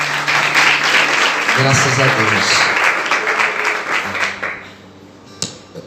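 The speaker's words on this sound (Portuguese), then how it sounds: "Vamos aplaudir o Senhor" A church congregation claps for the Lord during a sermon, warm sustained applause with a voice speaking over it. The clapping thins out and fades toward the end, leaving a few scattered claps.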